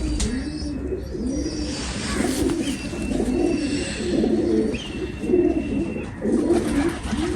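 Kani breed pigeons cooing close by, repeated soft throaty coos in a steady rhythm, with faint chirps from other birds in the background.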